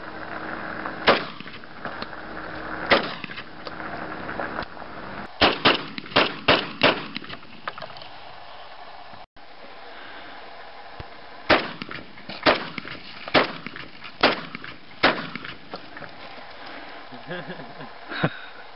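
Gunshots from a Vepr 12 shotgun and a Mosin-Nagant rifle at an outdoor range, a dozen or so sharp loud reports, some single and some in quick bursts, over steady background noise.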